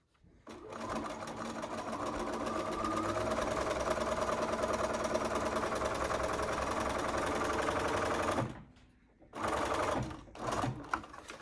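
A sewing machine stitches a seam in a fabric face mask, running in one steady, loud rapid hum for several seconds before stopping, then giving a couple of short bursts.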